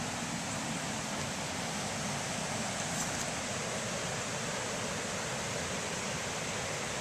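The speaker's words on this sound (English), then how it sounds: "we have a creek that is highly swollen and which contains brown trout" A highly swollen mountain creek holding brown trout rushes nearby, a dense, steady broadband roar of water that stays constant and loud throughout.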